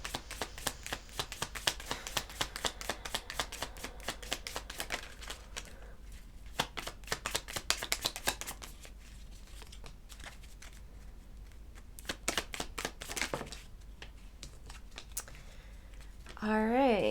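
A Wild Unknown Animal Spirit tarot deck is shuffled in long rapid riffling bursts with pauses between them, close and fairly quiet, while a voice talks over it.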